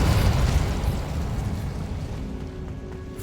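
Burst of the Incendio fire spell in Hogwarts Legacy, a loud whooshing blast that starts at full strength and slowly fades into a rumbling tail.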